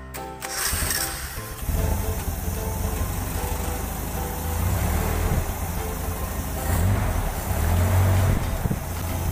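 A Toyota 5K series engine cranking, then catching and running, a close, rough low rumble that stays steady with faint rattling over it.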